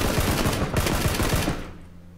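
Rapid automatic gunfire in the battle-royale shooter PUBG, dense bursts of close loud shots for about a second and a half, then cutting off into a fading tail.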